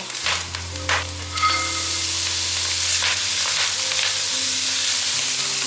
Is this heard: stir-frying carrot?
yes